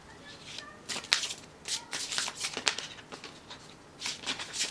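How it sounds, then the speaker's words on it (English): Cards are shuffled in quick, papery bursts of riffling and sliding, close up and fairly soft, with short pauses between bursts. "let's shuffle the Angel Tarot 5 times"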